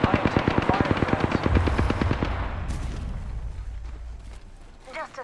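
Rapid bursts of automatic gunfire in Apex Legends, a loud run of evenly spaced shots for about two seconds, then a low rumbling tail and scattered game effects.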